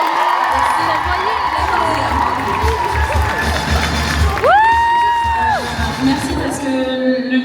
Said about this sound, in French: un tonnerre d'applaudissements s'il vous plaît pour Emma Berthet.